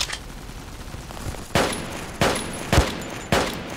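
Gunfire in the online PC multiplayer FPS game Army Troop: four sharp, loud shots spaced about a second apart over a low background hum, with no talk.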